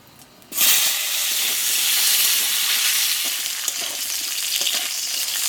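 Cut potato pieces drop into hot oil with whole cumin seeds, bursting into a loud, steady sizzle that holds for several seconds and eases slightly toward the end.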